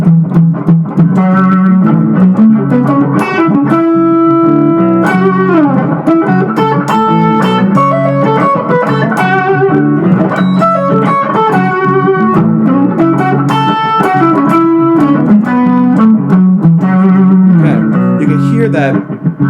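Loud, sustained electric guitar with a gritty, saturated tone playing continuous melodic lines and arpeggios, with no pauses throughout.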